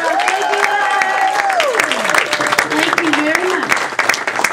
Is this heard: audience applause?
yes